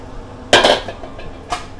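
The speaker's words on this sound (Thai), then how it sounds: "ตั้งกระทะค่ะ" A wok is set down on a stove before stir-frying beef in oyster sauce, landing with one loud metallic clank, followed a second later by a lighter knock, with no talk.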